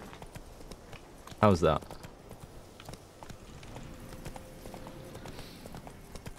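Hooves clip-clop in a quick gallop rhythm, with one brief loud burst, as a horse runs in The Witcher 3: Wild Hunt. Someone speaks briefly over the steady in-game ambience.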